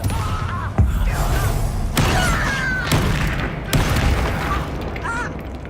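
A Bombarda blasting spell in Hogwarts Legacy goes off as a heavy booming thud during a magic duel, followed by several more sharp bursts and impacts over game music, while a character's voice calls out spells.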